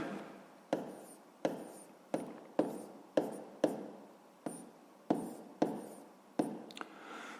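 Pen or pencil writing math on paper during a sixth-grade fraction exercise: a steady series of about a dozen short scratchy strokes, close and moderately quiet, with no talking.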